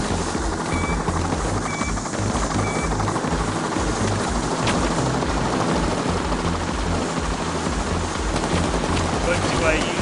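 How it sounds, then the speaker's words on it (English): Steady rotor thump and engine drone of a helicopter coming in during a Payday 2 heist, a loud continuous chopping wash with faint voices under it. "Chopper coming in."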